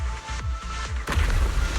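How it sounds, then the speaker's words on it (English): Explosion in the Zenless Zone Zero game: a short run of heavy booming thuds, then a louder rumbling blast with crumbling debris as the surroundings collapse, close and forceful. "The explosion causes the surroundings to collapse."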